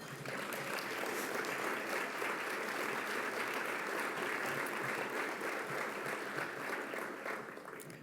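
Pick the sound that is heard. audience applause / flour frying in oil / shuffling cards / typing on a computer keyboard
audience applause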